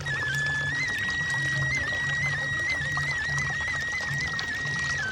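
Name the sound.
water flowing from a natural spring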